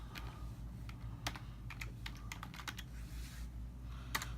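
A computer keyboard is typed on in short bursts of close, crisp key clicks, fairly quiet, over a low steady hum, with no voices.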